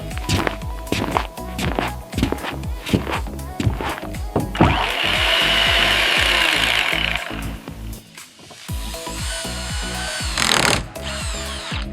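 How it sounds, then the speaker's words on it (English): A power tool whirs in a sustained burst amid sharp knocks and clatter on wood, close and fairly loud, followed by a second shorter whine. "Okay, I'm ready with the drill."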